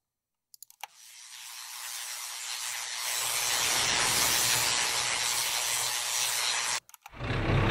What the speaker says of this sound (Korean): 자, 인더스트리얼 이퀴프먼트 한번 볼게요.